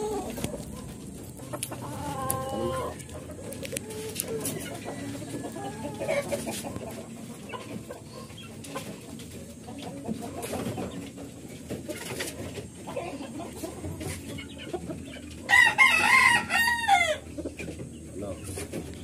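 Chickens cluck softly and intermittently at close range, with a louder burst of squawking calls near the end; a rooster and other birds join in.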